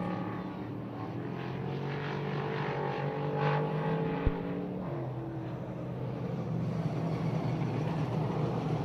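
Dirt track race cars run a heat race at Utica-Rome Speedway, a continuous engine roar rising and falling as the pack circles, with one sharp knock midway, heard from a distance.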